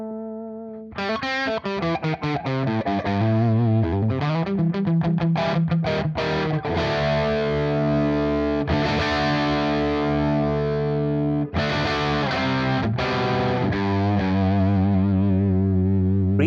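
Distorted electric guitar played through a Dumble-style amp tone on the deep or mid setting: sustained chords and single notes with a thick, saturated tone and chorus-like shimmer, loud and alone.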